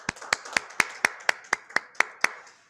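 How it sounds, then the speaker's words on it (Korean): A church student-group congregation claps hands in unison, about ten sharp, evenly spaced claps in a steady rhythm, close and clear with no talking. "우리 다 같이 하나님께 영광의 박수 돌릴까요?"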